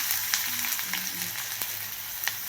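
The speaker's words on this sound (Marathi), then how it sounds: "आता यामध्ये आपल्याला हा बारीक कट केलेला कांदा घालायचा आहे" Finely chopped onion hits hot oil in a pan and sizzles steadily and loudly, with a few light clicks of stirring scattered through the crackle.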